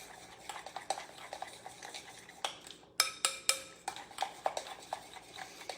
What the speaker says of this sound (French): Je continue à brasser. Je vais vraiment chercher toute la poudre qui reste.